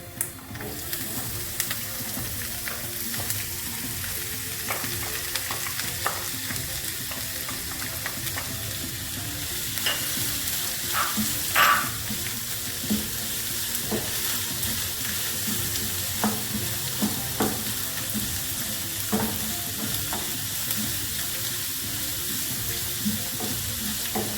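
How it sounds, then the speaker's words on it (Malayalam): Onions fry in a little oil with a continuous, close crackling sizzle. Scattered utensil taps and scrapes come through as the pan is stirred now and then, and no one speaks. "ഇനി നമുക്ക് അതിൻ്റെ കൂടെ ഉള്ളി ഇടാം"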